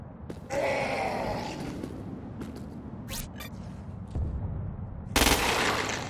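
Gunfire in the Crackdown 2 video game: bursts of rapid shots and heavier blasts with booming low rumble, loud and close, coming in several clusters separated by short gaps.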